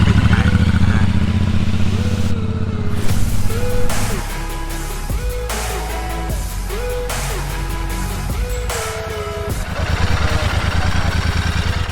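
Royal Enfield Super Meteor 650 motorcycle ridden nearby, a loud steady engine drone with repeated rising and falling revs as gears change, mechanical clatter underneath, no talk.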